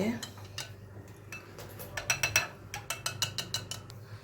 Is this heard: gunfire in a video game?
no